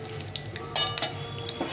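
Dried red chilli and bay leaf frying in oil for chana dal give a brief close sizzle, with a couple of sharper crackling bursts over the soft hiss.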